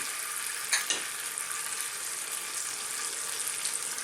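Shrimp fry in a little hot oil, giving a steady, close hiss and crackle with a couple of brief louder pops early on.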